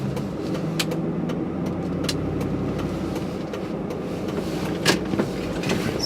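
A truck engine hums steadily from inside the cab while driving, with a low continuous drone, occasional clicks and rattles, and no talking.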